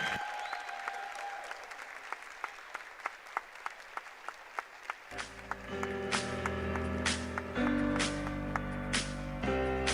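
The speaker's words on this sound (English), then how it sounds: "a round of applause to the University of Mount Union's Purple Raiders." Crowd applause for a women's college volleyball team at an NCAA tournament match, steady clapping that swells louder midway as music starts underneath, with some sharp claps standing out.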